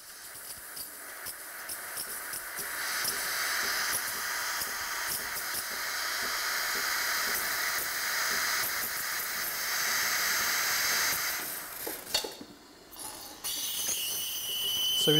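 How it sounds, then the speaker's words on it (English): A Sage espresso machine steam wand gives a steady, loud hiss that runs almost continuously, briefly dipping and sputtering near the end before resuming. "As soon as our espresso shot is finished, we engage the steam."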